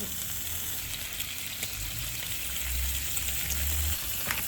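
Bacon fries in a pan over the highest heat, a steady close hiss and crackle with scattered pops and a low rumble rising toward the end.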